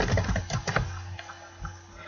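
Typing on a computer keyboard into a Roblox Studio plugin search, a quick run of close, crisp key clicks that thins out into a few sparse taps, with a faint steady hum behind.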